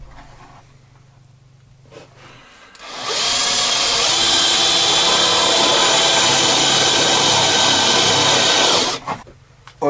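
A power drill bores marking holes in a homemade table saw build, starting after a quiet moment and running loud and steady for about six seconds before stopping.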